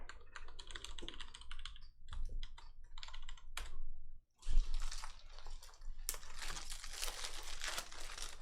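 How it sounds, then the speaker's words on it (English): Rapid keystrokes on a computer keyboard during a baseball card box break, clattering in uneven bursts with short pauses, close and fairly loud, with no talking. "Here, I'll type it."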